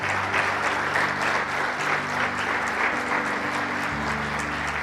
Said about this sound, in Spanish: ¿Cuántos le dan un aplauso al que vive y reina?